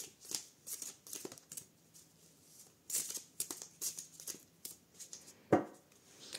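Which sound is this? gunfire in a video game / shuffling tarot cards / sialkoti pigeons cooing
shuffling tarot cards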